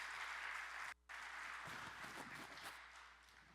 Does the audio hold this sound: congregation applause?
yes